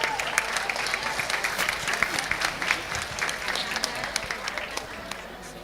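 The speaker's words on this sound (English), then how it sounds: "Let's give Mike a round of applause." Audience applause at a COP27 nature session, a sustained round of clapping from a crowded hall with dense, steady claps throughout, voices faintly mixed in.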